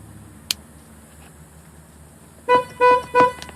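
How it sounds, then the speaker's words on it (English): A stock factory car horn sounds three loud, close honks in quick succession, each about a quarter second long, after a quiet stretch with one brief click. "Got your regular horn."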